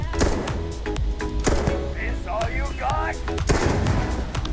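The Sir Livingstone's Pistol fires in Starfield, a string of sharp, punchy gunshots at an irregular rhythm, loud and close, with voices chattering briefly among the shots.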